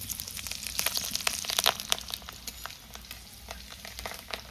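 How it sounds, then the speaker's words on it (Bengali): Dried and green chillies frying in hot oil with five-spice seeds, a crackling sizzle full of sharp pops and spits that crowd together, then settle into a steadier hiss, close with no talking. "শুকনো লঙ্কা, কাঁচা লঙ্কা একসঙ্গে আমি দিয়ে দেবো।"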